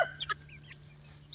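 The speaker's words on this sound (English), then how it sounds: "Darn roosters." Outdoor roosters give short, sharp clucks and chirps in the first moments, followed by a quieter stretch and one more brief call at the end, faint and somewhat distant over a low steady hum.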